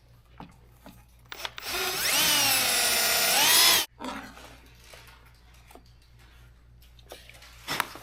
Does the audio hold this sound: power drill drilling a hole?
yes